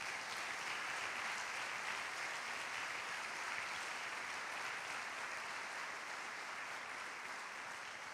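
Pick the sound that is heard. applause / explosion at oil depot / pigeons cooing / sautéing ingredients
applause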